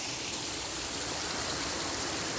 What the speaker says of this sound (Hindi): बहुत ही प्यारा चश्मा है जी, ऊपर से आ रहा है ये पानी